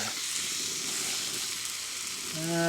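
Steady, close sizzling and frying of a steak in a pan over a LavaBox camp stove outdoors, constant and fairly loud, with a tonal hum entering near the end and no speech.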